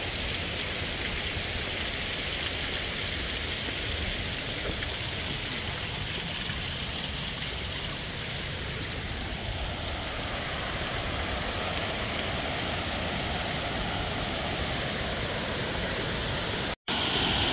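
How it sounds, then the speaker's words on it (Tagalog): A small waterfall at Letchworth State Park in upstate New York gives off a steady, dense rush of falling water. The broad hiss stays constant throughout and is heard alone, with no voices. "Meron po mini falls."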